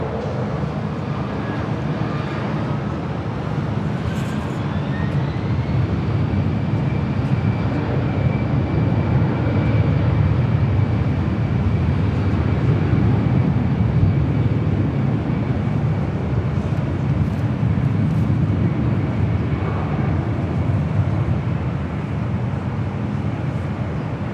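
Loud, continuous roar of an airliner taking off from runway 24 left at LAX, a broad steady rumble with a rising whine that levels off and holds throughout.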